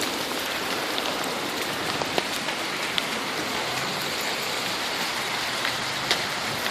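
Summer hailstorm in July pelting a tin roof and the ground outside, a steady dense clatter of many small impacts with occasional sharper ticks, continuous and fairly loud throughout.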